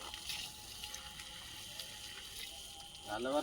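Water is poured onto potted plants that have just been transplanted, giving a steady, fairly faint splashing flow that swells near the end.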